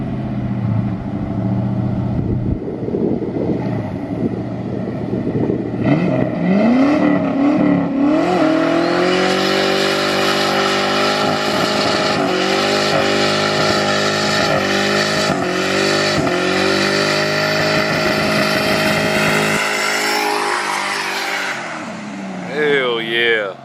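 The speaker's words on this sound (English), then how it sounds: "But as for now, let's do a burnout." A street car at the Street Car Takeover in Charlotte does a burnout, its engine climbing into hard, sustained revs that scream steadily for several seconds before cutting off. The noise is loud and close, with voices heard around it.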